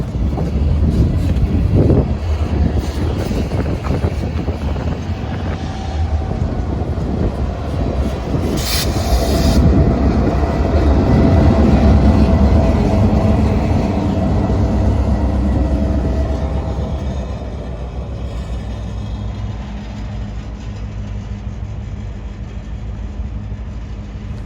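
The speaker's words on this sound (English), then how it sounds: "The last train we have is Y161 reversing out of People's Lane." Train Y161 reverses out of People's Lane, a loud, close rumble of railcars with rolling wheel and rail noise that swells midway and then eases, buffeted by wind on the microphone, with no talk.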